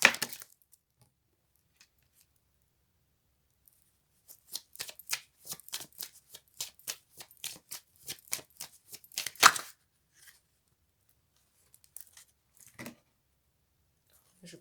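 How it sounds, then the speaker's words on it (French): Oracle cards shuffled and handled at a tarot-style reading table, with a dense run of quick riffling flicks in the middle, then a few isolated soft card snaps afterward. "Alors, je vais tirer une autre carte."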